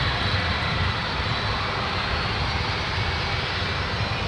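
An Airbus airliner takes off at San Francisco International Airport, its engines producing a sustained, loud, broad roar that holds steady throughout with no talking.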